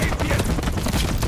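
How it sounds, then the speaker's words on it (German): Dense, continuous automatic gunfire from Modern Warfare 3 rattles loud and close, packed with overlapping shots and low rumble throughout the short burst. "Ich schieße einfach mal auf."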